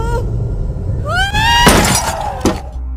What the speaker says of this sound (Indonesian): Dia pun sangat marah dan kemudian memecahkan kaca tersebut.